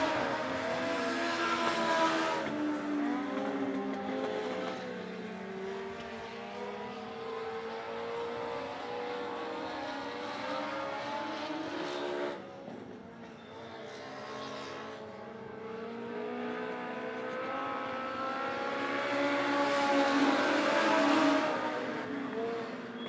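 Race cars in a heat race at Monett Motor Speedway, engines droning and rising and falling steadily as they run nose-to-nose down the backstretch, loud and continuous, with a surge of revving near the end.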